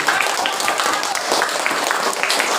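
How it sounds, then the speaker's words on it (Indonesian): A classroom audience claps after a student presentation, giving a brief burst of dense applause that is steady and moderately loud throughout. "Tepuk tangan dulu dong."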